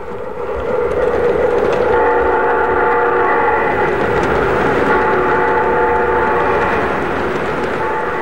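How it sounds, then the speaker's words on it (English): An MTH model steam locomotive with simulated exhaust chuffs and whistle produces a loud, steady rumbling chug overlaid by sustained, layered whistle tones, continuous and close. "Our steam locomotives have exhaust sounds, pop-off valve sounds, air pumps, bells, and beautiful sounding whistles."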